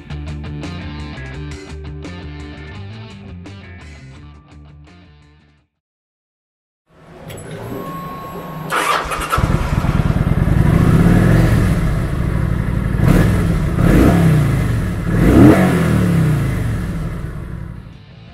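A 2010 Kawasaki Vulcan 900 Classic LT (VN900LT) motorcycle engine starts after a stretch of music and a short silence, then idles loudly and close, with several rising revs.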